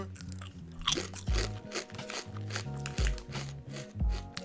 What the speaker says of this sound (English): Very nice crunch.